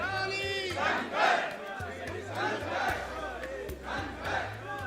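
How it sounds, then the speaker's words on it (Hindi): A large, dense crowd shouts and chants slogans for Karauli Shankar, with rhythmic bursts of massed voices rising and falling throughout at close range. "भारी भीड़ है जो हमारे पीछे है, और करौली शंकर के नारे लगाए जा रहे हैं।"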